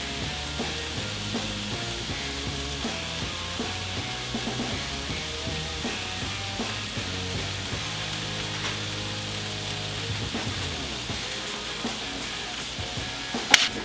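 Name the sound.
peppers, onions and mushrooms frying on a Blackstone griddle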